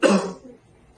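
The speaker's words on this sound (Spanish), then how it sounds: "Ahora vamos a ver qué ocurre cuando tosemos." One sharp, close human cough bursts out loudly and decays within half a second, followed by quiet; no talking.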